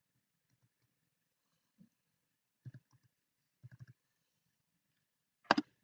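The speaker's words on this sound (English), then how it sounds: "I can just click here, backspace, type in Wyatt." A few soft computer mouse clicks and keystrokes spaced out over several seconds, ending with a sharper, louder key press, close-up in a quiet room with no talking.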